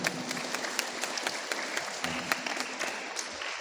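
Audience applause for the regent of Tanah Tidung at a religious gathering, a steady wash of many hands clapping with crisp individual claps standing out, moderately distant and fairly quiet, with no talk over it.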